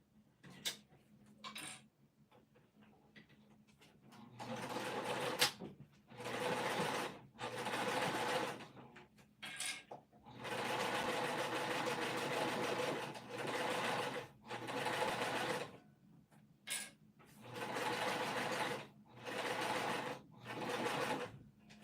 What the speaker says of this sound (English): I'm just gonna top stitch across the top.